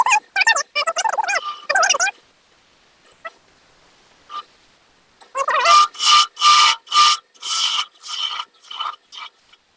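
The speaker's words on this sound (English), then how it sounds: "the curved kind of wing on this tool is doing the slicing" Curved lathe gouge slicing wood while turning a finial: a run of short, raspy cutting strokes, then after a quiet pause a second series of louder, rhythmic rasping cuts, close by.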